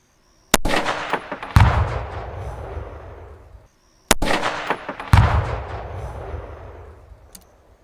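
Two loud rifle shots from a CMMG Endeavor AR-10 chambered in 6.5 Creedmoor, fired at long range, each a sharp crack followed by a second boom and a long rolling echo that decays over a few seconds.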